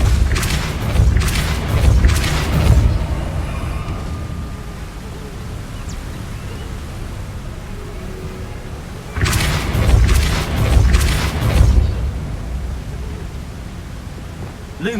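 Repulsor spell blasts in Hogwarts Legacy, two bursts of booming, crackling energy a few seconds apart, each a loud broadband whoosh that fades into a low ambient rumble between them.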